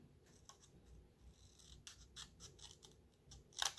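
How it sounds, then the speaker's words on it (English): Scissors cutting paper for mini file folders, heard as a series of short, quiet snips and rustles at an uneven rhythm, ending with a sharper, louder cut. "So I have a little bit here to cut off again."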